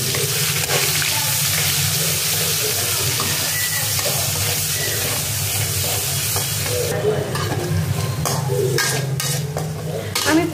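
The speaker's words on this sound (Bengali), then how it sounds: "তার মধ্যে কোচানো পেঁয়াজগুলো দিয়ে দিচ্ছি।" Chopped onions frying in hot oil with cumin and whole garam masala, stirred steadily; a loud, continuous close sizzle with scraping stir strokes, no talking.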